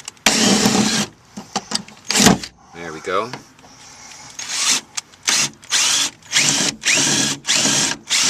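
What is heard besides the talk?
power drill drilling out rivets in Toyota RAV4 dash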